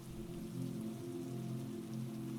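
Heavy rain falls steadily in a continuous, even hiss and patter with a low rumbling body, close and unbroken, with no voices.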